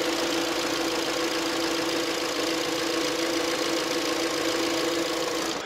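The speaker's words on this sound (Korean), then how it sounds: "엔진 소리 한번 들어볼게요." A Kia K5 LPG engine idles with the engine bay open, giving a steady, even mechanical hum with a faint ticking texture and no voices.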